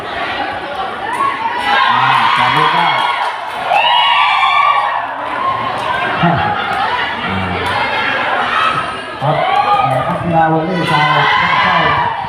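Supporters shout and cheer throughout a women's village sepak takraw match, a dense, loud crowd with swelling whoops and children's cries layered over constant chatter.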